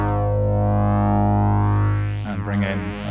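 A low-octave square wave from Nekyia Circuits analogue modular synth modules plays as a loud, buzzy sustained tone. It turns into a distorted, echoing texture near the end.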